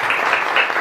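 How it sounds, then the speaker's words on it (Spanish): Loud, close applause from a seated audience welcoming a panelist onto a stage at a panel discussion on workplace happiness, a brief dense burst of many hands clapping with no voices on top. "Un aplauso para la Connie."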